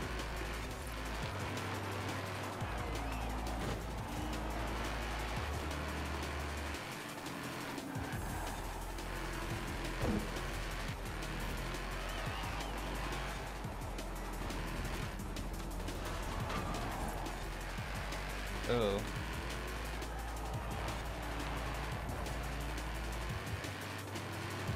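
Ferrari California cars race in Forza Horizon 4, the engines a steady low drone with shifting pitch that stays quiet and distant beneath a continuous low background hum.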